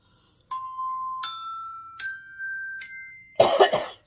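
One sharp, close cough bursts out near the end, right after a short sequence of four clear ringing chime tones that step in pitch, each sustained before the next.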